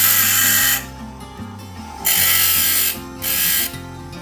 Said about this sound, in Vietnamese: Do mình không biết mài cái mũi khoan đó, bởi vậy mình mài nó hơi bị xéo nha